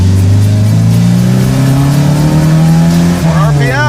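A $1500 car fitted with a sport-bike muffler tip on its exhaust revs hard while accelerating, loud and close, the engine note climbing steadily in pitch before a brief dip and a rough, warbling surge at the end.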